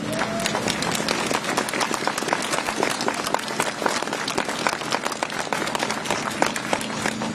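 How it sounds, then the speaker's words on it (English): An audience claps steadily at a Save Our Hospital public meeting in Hartlepool, a dense, sustained applause that fills the room for several seconds with no talk over it. "You're all clapping"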